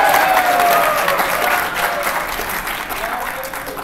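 A university lecture audience applauds steadily, a dense wash of clapping that gradually fades a little over a few seconds.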